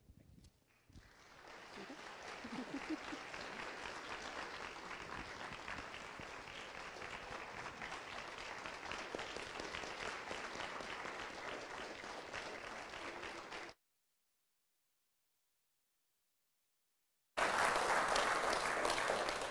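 A church congregation claps at a Sunday service, loud, dense and sustained applause that fills the room for over ten seconds, then returns strongly after a brief cut.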